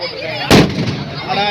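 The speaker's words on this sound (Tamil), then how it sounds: "வெடி வெடி" A single sharp, loud firecracker bang bursts out suddenly at a manjuvirattu bull-taming event, then fades into a noisy, echoing background.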